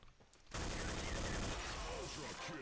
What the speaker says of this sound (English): Oh, this is a big boy. PKM fire.